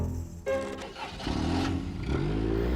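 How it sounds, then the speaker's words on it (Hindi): A car engine cranks and catches with a sudden burst, then settles into a rough idle that rises into a louder revving hum, heard up close. "ठीक है, गाड़ी स्टार्ट करो।"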